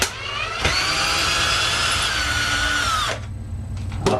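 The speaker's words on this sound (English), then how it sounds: "So let's go ahead and remove those screws and see what I'm facing." A power drill whirs steadily for a few seconds as it backs screws out of an ESP LTD EC-50 guitar body, then stops, followed by a short final burst. Close and loud, with no talking.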